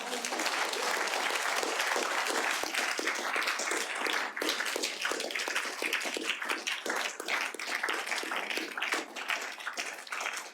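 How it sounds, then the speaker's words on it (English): A conference audience applauds at the close of a plenary session in a hall, dense sustained clapping from many hands, steady and close throughout. "So now you can cheer."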